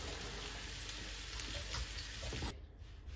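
Chilies and spices fry in hot oil with a steady, close sizzle and crackle, loud and continuous, then the sizzle drops abruptly to a quieter hiss near the end.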